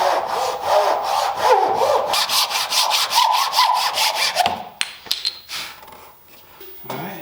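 A saw cuts a maple workpiece along a plywood template clamped to it, giving loud, rhythmic rasping strokes up close that slow into scattered scrapes and knocks toward the end.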